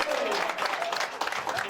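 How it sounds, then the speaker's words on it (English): A crowd at an outdoor marker dedication in Boston applauds to welcome Peter Wolf, a brief burst of clapping with a voice talking over it. "now let's all get together with a nice round of applause and welcome to Boston's one and only, the mighty Peter Wolf"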